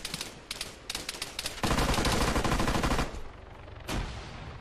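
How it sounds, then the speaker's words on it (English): Gunfire in the Arma 3 military shooter game during a King of the Hill match: several quick separate shots at first, then a loud, dense sustained burst of automatic fire that tapers off, with one more shot near the end. "heard some gunshot from over here, so I'm going to go and investigate"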